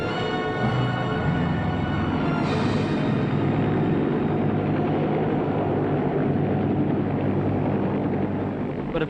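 A military helicopter in flight, a loud, steady droning rotor and engine roar that fills the whole stretch without pause, close and constant.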